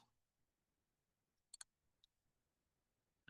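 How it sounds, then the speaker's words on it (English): A computer mouse clicking, a close quick double click followed by a single lone click, each tiny and sharp against near silence, with a faint start of sound at the end. "Or if I double click all around, come on."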